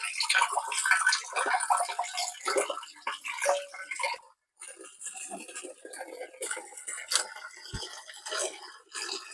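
A homemade filter for a coloured-fish aquarium runs, pushing water through pipes. It makes a continuous close trickling and splashing with a brief break midway.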